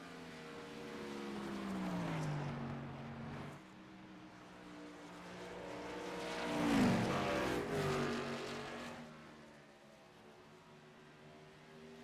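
Simulated ARCA Series stock car engines at Darlington in iRacing hum and swell, with rising and falling pitch as cars pass by closely, one loud sweep near the middle before fading.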